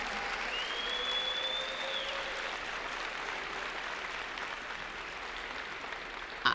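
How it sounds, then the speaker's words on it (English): Audience applause for school staff at a high school graduation, a sustained, even wash of crowd clapping, with a brief whistle tone rising over it early on. "can you all join me in a round of applause for our staff for supporting our children?"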